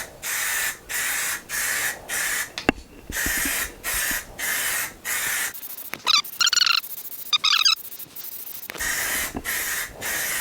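Airbrush laying light coats of paint onto a wood-turned piece, a series of short rhythmic hissing bursts with brief pauses between them, close and fairly loud, with a few small clicks and squeaks partway through.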